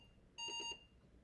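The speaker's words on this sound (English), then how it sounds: "these beeps can now be turned off" An Apple II running the Tic Tac Dough program gives a single short, clear electronic beep with a pure tone and faint harmonics, lasting about a third of a second against a quiet background.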